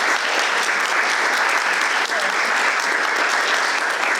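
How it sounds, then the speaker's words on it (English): An audience at a women-in-racing event at a stud farm headquarters gives a panel a loud, sustained round of applause, dense clapping that holds steady throughout. "Everybody, well-deserved round of applause"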